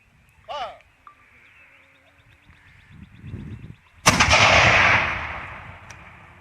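Half-charge howitzer shot with no cannonball at a Revolutionary War reenactment: a single loud, sharp blast that rolls off into a long fading rumble, after a short shouted command and faint background noise.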